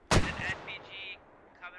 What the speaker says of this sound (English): BTR engaged by the HMG that's sitting back here.